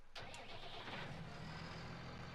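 Tractor engine in Farming Simulator 19 cranking and catching with a sharp start, then settling into a steady, low idle that runs loud and alone to the end.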